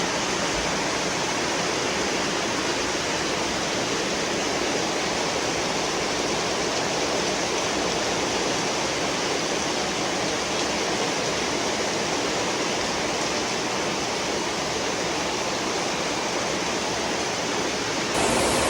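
Heavy rain pours down steadily on a house whose roof is leaking, a dense, unbroken roar of water that stays loud and constant throughout with no voices.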